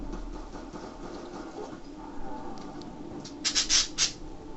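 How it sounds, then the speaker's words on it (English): Pet budgie squawking in the background during Call of Duty: Black Ops 2 Zombies gameplay, a few sharp, bright chirps clustered near the end over a low, busy game soundscape. "Apologise for my budgie, just squawky background."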